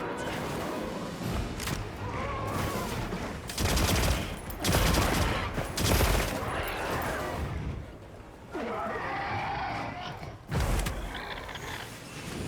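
Rapid bursts of bowgun fire from a Monster Hunter Wilds hunt, loud clustered volleys with mechanical clacks, recurring in several bursts over steady game noise and occasional speech.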